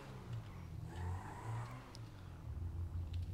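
A Zentorno supercar in GTA 5 revs with a low, fairly quiet engine rumble that swells and dips in pitch across a few seconds, with faint higher whirring and no voices.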